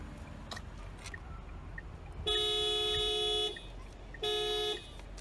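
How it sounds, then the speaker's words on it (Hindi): Dual horn of a 2022 Tata Altroz XZA Plus DCT petrol hatchback sounds in two steady honks, a longer blast followed by a shorter one, loud and close over faint background noise. "डुअल हॉर्न है।"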